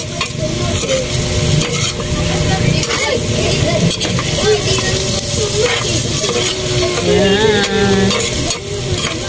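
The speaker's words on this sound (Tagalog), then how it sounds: "Then hahaluin ko siya guys. Hahaluin." Food being stirred in a frying pan over steady sizzling, with a spoon or spatula scraping and clattering continuously at close range while a person speaks over it now and then.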